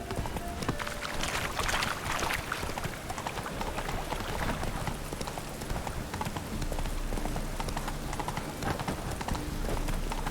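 Roach, a horse in The Witcher video game, trots with rhythmic clip-clopping hooves throughout, steady and close, with faint ambient sound and a brief voice in the background.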